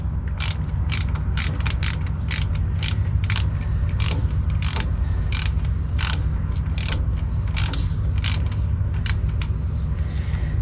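A socket ratchet tightens bolts on an Eaton Fuller 10-speed truck transmission casing, giving close, rhythmic bursts of sharp clicking that repeat steadily over a low background hum.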